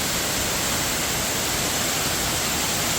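Kambal Busay waterfall in Bulusan, Sorsogon roars as a dense, constant broadband rush, loud and unbroken, with no voices over it.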